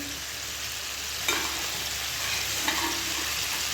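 Tomatoes and onions frying in a pan over a gas flame, a steady broad sizzle with a couple of soft stirring bumps, close and continuous, no voices.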